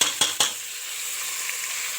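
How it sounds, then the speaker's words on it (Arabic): Lamb pieces sautéing in a pot for okra tagine, a bright continuous sizzle opened by two quick scraping stirs of a utensil against the pot, close and alone. "انا اهو بشوح فيها، شوحت شويه"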